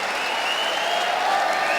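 A large crowd roars and cheers continuously at a judo world championship bout in Paris, a dense, steady wall of arena noise without breaks.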